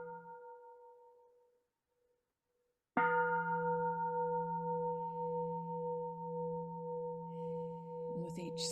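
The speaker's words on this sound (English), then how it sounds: "let's start with the sound of the bell" A meditation bell is struck once and rings out clearly, its pure sustained tone lingering evenly for several seconds.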